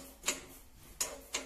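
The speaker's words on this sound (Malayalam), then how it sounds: "കടുക് ഇപ്പോ പൊട്ടി തുടങ്ങിയിട്ടുണ്ട്" Mustard seeds popping in hot oil in a pan: three sharp, isolated pops, quiet and well spaced, with a faint sizzle underneath.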